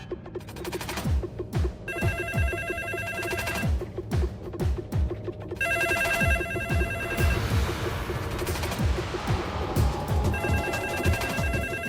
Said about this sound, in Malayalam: ഫോൺ എടുക്കണ്ട, അത് അവിടുന്ന് തന്നെയാ. കിടന്ന് അടിക്കട്ടെ, കുറെ നേരം അടിച്ചിട്ട് നിന്നോളൂ.